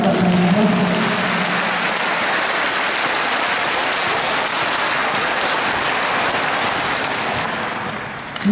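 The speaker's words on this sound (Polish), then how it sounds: "Brawa dla pani Barbara" Steady, dense applause from an audience at a primary school's first-grade pledge ceremony greets a newly introduced class teacher, holding strong for about eight seconds before easing off slightly at the end.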